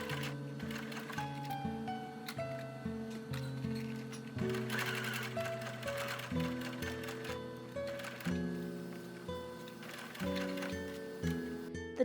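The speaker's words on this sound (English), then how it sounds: "tons and tons of sewing and using my enemy, the sewing machine." A sewing machine runs in bursts of rapid mechanical stitching, stopping and restarting several times, close and fairly loud.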